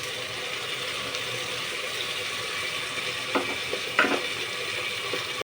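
Tomato and onion frying in oil as spice masala is added, a steady close sizzle with a few brief stirring scrapes near the end.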